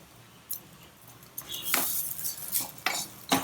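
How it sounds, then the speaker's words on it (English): Spoon stirring sevai in a pan seasoned with crushed pepper and jeera, giving scattered metallic scrapes and clinks of irregular rhythm, close and moderately loud, with no talk. "Mix it all together like this."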